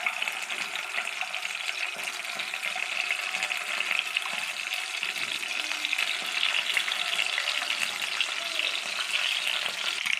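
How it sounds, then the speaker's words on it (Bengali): Peeled boiled eggs frying in hot oil in a pan, a steady, close, even sizzle and crackle running throughout with no talk. "এবার ডিমগুলোকে আমি ভেজে নেব"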